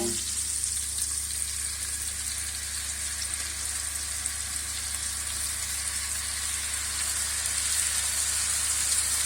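Sauteed shrimp sizzling steadily in a spicy pan, a constant bright hiss with a low hum underneath, unbroken and fairly close for the whole stretch.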